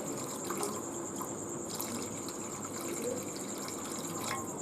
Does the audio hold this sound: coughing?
no